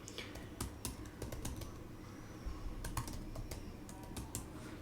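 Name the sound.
typing a business ID on a computer keyboard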